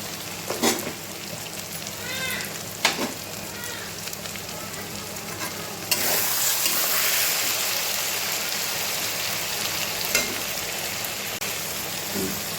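Ground turmeric, cumin and chilli powder frying in a pan for a Bengali bhetki fish-bone curry give off a steady sizzle that swells louder partway through, with occasional stirring clinks and no talk.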